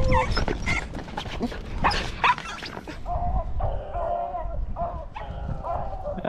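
Hunting dogs bay and yelp while chasing a rabbit in Pennsylvania, a pack of excited barks and high whining cries overlapping at close to middle distance. People talk over the dogs.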